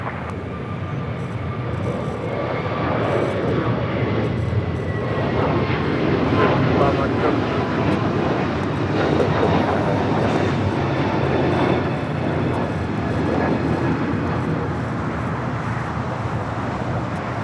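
An American Airlines jet on short final to runway 25 left at LAX, a steady, loud engine roar and rumble holding throughout, with a voice talking over it.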